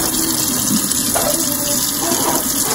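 Tap water runs steadily while soap is rinsed out of make-up brushes, a close, continuous gushing splash with slight shifts as the brushes move under the stream.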